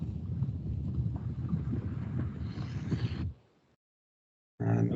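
Strong wind buffets the microphone near an erupting volcano in Iceland, a loud continuous rushing roar that cuts out abruptly and then bursts back in briefly at the end.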